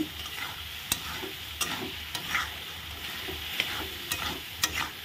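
A large fish head stir-fries with fried potatoes and spices, a steady moderate sizzle broken by regular scraping strokes and occasional sharp taps of a utensil against the pan, with no talking.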